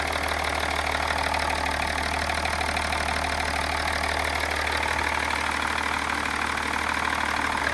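A BMW M57 diesel engine idles close by, a constant mechanical rumble with a faint rattling knock, running evenly without change for several seconds, no voices.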